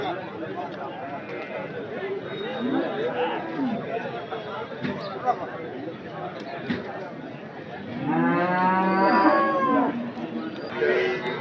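Cattle at the Anthiyur cattle market moo over busy crowd chatter, with a loud, drawn-out close moo near the end among ongoing market noise.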